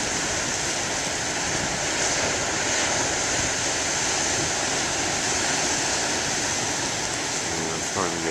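Moderate surf breaking at the shore gives a constant, hissing roar of water, steady and fairly loud from start to finish.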